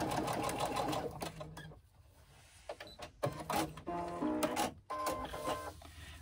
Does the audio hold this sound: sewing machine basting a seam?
yes